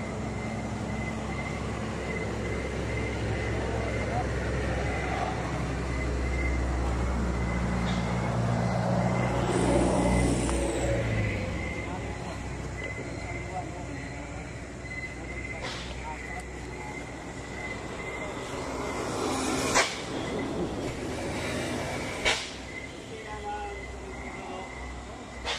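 A vehicle passes on a road lined with balete trees, swelling to a rumbling peak and fading away, followed by a few sharp knocks. People talk over the scene.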